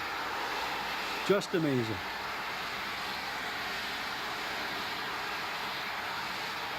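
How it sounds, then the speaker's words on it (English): A Harrier-type jet hovers on vectored thrust at a Blue Angels air show, its steady broadband roar running throughout while an announcer speaks briefly over it. "Now just sitting there on a cushion of pure thrust."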